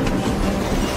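A train rolls along the tracks in a film scene, a brief, dense rumble with rhythmic rail clatter at moderate loudness and no voices.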